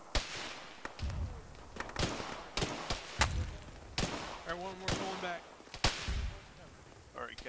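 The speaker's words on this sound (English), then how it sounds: "Oh, they're shooting at me." Enemy gunfire in the military shooter game Arma, played with the ShackTac group: sharp, loud shots crack out one after another at irregular intervals, with radio-like talk and a brief tonal beep between the bursts.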